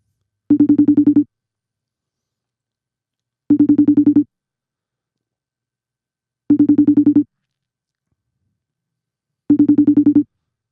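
Phone ringtone ringing in four evenly spaced bursts about three seconds apart, each a clear, moderately loud warbling electronic trill, with silence between them during a call-in setup for a powerlifting podcast.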